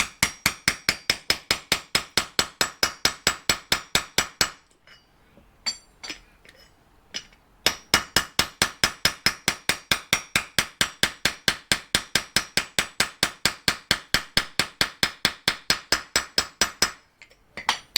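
Rapid, steady metallic hammer blows drive a brake part into a Mitsubishi NL Pajero, ringing close and loud, pausing briefly midway before resuming, the strikes sharpening slightly in tone as it bottoms out.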